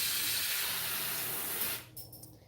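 A steady, loud hissing spray runs continuously for nearly two seconds, then stops abruptly, leaving faint clicks and handling sounds.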